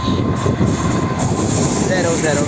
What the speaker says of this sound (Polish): jako przedostatni pociąg w tym filmie pociąg ekspres Intercity Spre